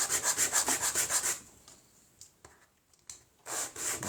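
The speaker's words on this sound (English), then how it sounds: "Then a little bit of sanding to smooth the edge." Sandpaper rubs rapidly back and forth on a small wooden frame edge in quick rhythmic strokes, pausing with a few small taps before starting again.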